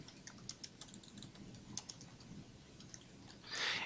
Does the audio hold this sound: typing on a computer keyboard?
yes